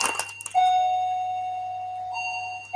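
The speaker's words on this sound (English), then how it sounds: "Doorbell" A doorbell rings indoors in the evening with a single sustained electronic chime tone that holds steadily and then restarts near the end, clear and fairly loud over a quiet room hum.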